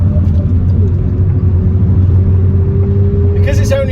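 A 2-litre Volvo 850 estate with a manual gearbox being driven hard, its engine a steady, loud low drone with road rumble throughout and a brief higher-pitched whine near the end.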